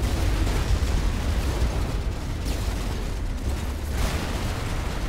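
Rocket explosions in the war game Running with Rifles, dense continuous rumbling blasts and battlefield noise, loud and unbroken, with a couple of sharper bursts rising out of the roar.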